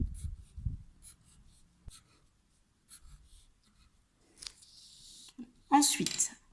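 A pencil draws short strokes on paper, sketching a hedgehog's spines. The scratches are soft, close and repeated in small bursts, followed by a louder rustle near the end.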